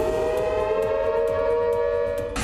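A civil defense siren wails during a mock air-raid drill, holding a loud, steady, sustained tone that drones on without a break before shifting abruptly near the end.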